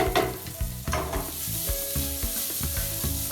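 Boiled baby potatoes sizzle in spiced masala in a pan while being stirred. The sound is a continuous close fry with rhythmic, repeated scraping and clattering strokes and no voices.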